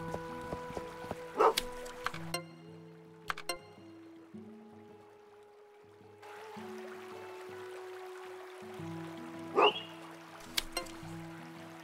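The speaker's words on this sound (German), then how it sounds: "Badam, Hundi, komm her." A video game dog in Potion Permit gives two short, sharp barks several seconds apart over soft looping game music, with no talk.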